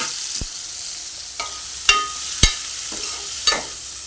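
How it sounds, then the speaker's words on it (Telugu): Paneer cubes and cashews fry in oil in a pan, with a steady sizzle under a few sharp scrapes and clacks of a stirring spoon spaced out across the clip; no voices. "జీడిపప్పు పన్నీరుని ఎర్రగా వేసుకోవాలి"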